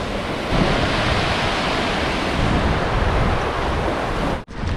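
Ocean waves washing in at low tide along a bay shore, a steady broad roar of surf close by with continuous wash and a brief dip near the end.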